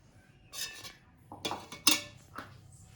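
A spoon clinks and scrapes against a bowl while sugar, salt and oil are mixed together for a ganji dosa batter; several short, close metallic knocks come in quick bursts with no talking.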